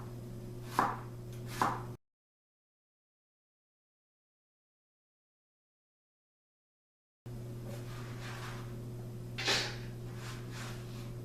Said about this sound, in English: I'm going to go ahead and cut up all these vegetables and weigh them